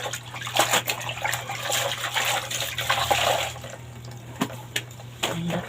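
Water pours and splashes during laundry rinsing, a steady running stream with intermittent sloshes and drips, moderately close under a low background hum, with no voices.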